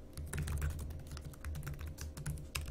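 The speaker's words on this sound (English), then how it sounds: "So I can start typing statements." Fingers type Java code on a computer keyboard in quick, irregular bursts of clicky keystrokes, close and clear, with short pauses between runs of keys.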